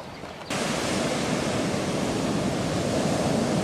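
Ocean surf at D.T. Fleming Beach Park on Maui under overcast skies, a sudden loud, steady broadband wash of breaking waves that starts half a second in and continues unbroken.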